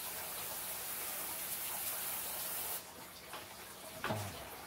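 A plumbed-in water sprayer wand running a constant hissing stream while cleaning a pac-man frog's setup, steady for a few seconds, then cutting off, followed by a few faint drips and splashes, no talk.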